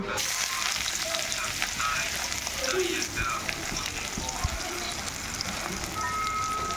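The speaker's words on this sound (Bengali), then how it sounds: "এবার পেঁয়াজ ভাজবো" Chopped onions fry in oil with cardamom, whole cumin and dried chillies for a chicken curry, giving a constant close sizzle and crackle throughout, with a voice faintly audible at times.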